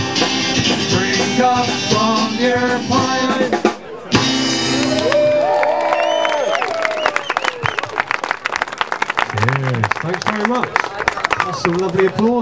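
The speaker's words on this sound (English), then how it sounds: "Some lovely applause out there." A large crowd at a folk music festival claps and cheers loudly and continuously, with lively music or singing mixed in throughout.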